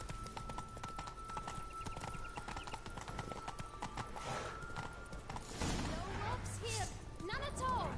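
The horse Roach gallops in The Witcher 3, a rapid steady clip-clop of hooves running throughout, joined near the end by a whinny and other game sounds.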